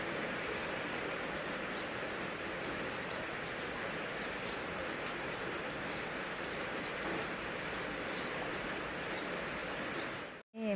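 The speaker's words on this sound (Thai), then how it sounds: "ฝนหากระตก" Rain falls steadily around a home on a rainy day, a soft, even hiss with faint scattered bird chirps, ending in a brief handling thump.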